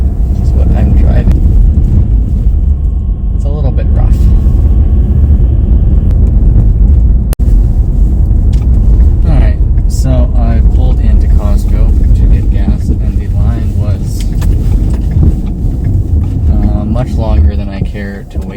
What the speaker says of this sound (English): there is a lot of snow and a lot of ruts, which makes driving even more fun. This is what I'm driving.